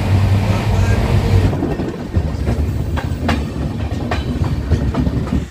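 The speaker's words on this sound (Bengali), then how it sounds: "আমাদের ট্রেন পৌঁছে গেছে এখন গড়বেতা" A late-running passenger train pulling into a rural station in West Bengal, with steady rumbling and wheel clatter on the rails, a few sharp clicks and squeals rising over the continuous low roar throughout.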